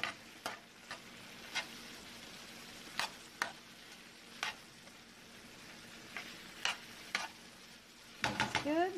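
A spoon works through stuffed pepper filling with chopped garlic, giving quiet, scattered clicks and scrapes against the bowl at irregular intervals, ending in a brief cluster of louder stirring sounds.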